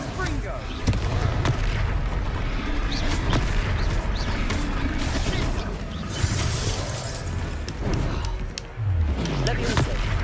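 Dense, continuous blasts and crackling impacts from the Confringo spell during a Hogwarts Legacy duel, layered with game music and effects, with voices talking throughout.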